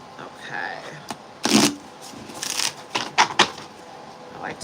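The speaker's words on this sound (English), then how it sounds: "Let me shuffle those cards in there real quick." Tarot cards being shuffled in several quick riffling bursts, close by, with brief pauses between them and no talking.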